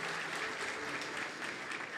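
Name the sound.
audience applauding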